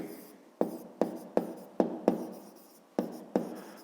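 Pen or pencil on paper, writing out a grade 5 maths exercise: a series of sharp taps and short scratchy strokes in irregular rhythm, close and quiet, with no talking.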